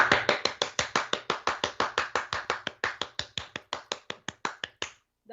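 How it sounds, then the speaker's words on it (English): One pair of hands claps close and crisply in a steady, even rhythm, about two dozen claps in a row that stop abruptly, standing in for applause after a choir performance. "it doesn't feel right if there's not an applause at the end"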